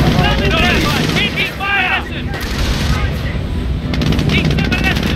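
Gunfire in Company of Heroes during a Wehrmacht battle: rapid machine-gun bursts and rifle shots crackle continuously with distant booms, under shouted soldier voices.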